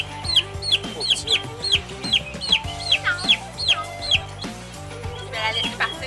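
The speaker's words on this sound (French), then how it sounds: "Ici, on est dans la pouponnière, fait que les dindes, ils ont 3 semaines." Three-week-old turkey poults in a farm nursery barn give repeated high chirping peeps in a quick uneven series over a low steady barn hum, with a few louder calls standing out.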